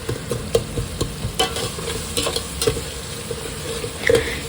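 Tomatoes and onions sauté in a pan, a continuous close sizzle broken by repeated scraping stirs and light clinks from the spatula, with no talk.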